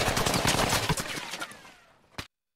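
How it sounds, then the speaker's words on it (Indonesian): A rapid volley of gunfire rattles out for about two seconds, loud and close, fading briefly before a single final sharp crack. "Tapi tiba-tiba, terdengar suara letusan senjata."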